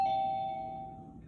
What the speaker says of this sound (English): Ding dong, who's there?